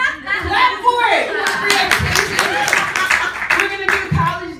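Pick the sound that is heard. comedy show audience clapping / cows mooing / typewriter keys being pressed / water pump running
comedy show audience clapping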